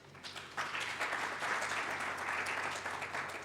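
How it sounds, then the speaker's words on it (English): An audience claps for about three seconds at the October 2021 launch of the OFAB Rwanda Chapter. The applause is soft and distant, rising quickly and holding steady before tapering off. "Another round of applause for him"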